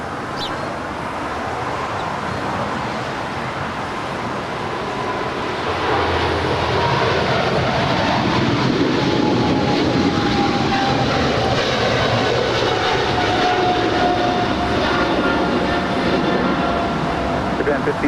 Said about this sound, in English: This is Japan 15 Heavy departing to Tokyo Haneda. It's a 777-300ER.